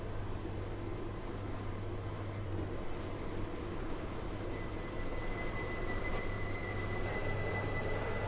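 Metro class 398 train in the Stepford County Railway video game, running with a steady low rumble and continuous drone, a faint high whine holding above it throughout.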